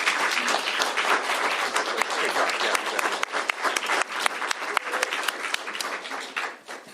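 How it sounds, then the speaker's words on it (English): Sustained applause from a crowd at a governor's bill signing ceremony, dense steady clapping that fills the whole stretch and tapers slightly at the end. "please give all these hardworking folks a huge round of applause"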